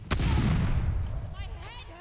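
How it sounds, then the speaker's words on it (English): A grenade explodes in a video game with a sharp, loud boom that rolls into a long, dense rumble and slowly decays, with faint game sounds at the tail. "Incoming grenade."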